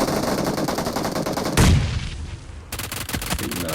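Rapid automatic gunfire bursts crackle loudly in PUBG Mobile team deathmatch play, with a heavy boom midway, a brief lull, then another dense volley of shots.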